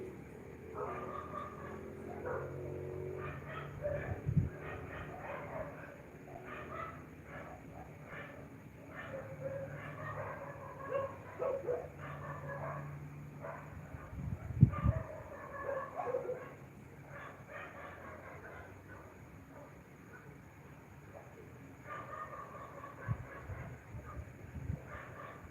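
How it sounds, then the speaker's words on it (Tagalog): Several dogs barking in short irregular bursts, fairly distant and muffled, with a few louder yips standing out over a steady background murmur. "Ang iingay ng mga aso."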